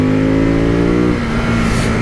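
Close-up engine of a 2018 Ducati Monster 821 motorcycle, a loud, steady rumbling rev that holds high and then drops slightly partway through.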